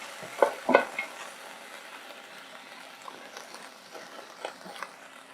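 Meat with onion frying in a pot over a cooking fire, with a couple of sharp stirring scrapes at the start followed by a soft continuous sizzle and occasional light clinks.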